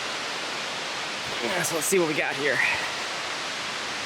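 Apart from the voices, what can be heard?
Cooper Brook Falls waterfall rushing near lean-to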